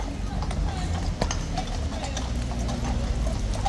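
Horse hooves clip-clop on a London street in rain, steady and fairly close amid continuous wet traffic and crowd noise, with voices talking in the background.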